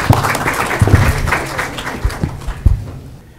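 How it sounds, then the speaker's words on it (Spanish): Audience applause at a university panel discussion on mining in Peru, greeting the first speaker; a burst of clapping with uneven swells, fading toward the end, over a low tonal hum in the room. "Un cálido aplauso, por favor."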